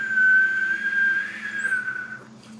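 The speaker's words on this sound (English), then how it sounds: "I do not know if the whistle passed through the microphone." A single sustained whistled tone holds steady for about two seconds then fades, faint and alone over a low background hum.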